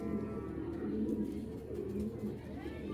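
Low repeated coos from a male Moyna Dobaj pigeon roll on for a few seconds, near and fairly steady, over a soft ambient hum.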